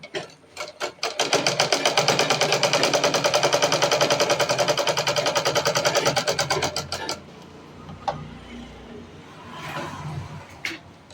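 A sewing machine runs in a long, rapid, evenly pulsing burst while stitching the half-inch hem of an A-line top, stops abruptly, then a few faint clicks and handling noises follow.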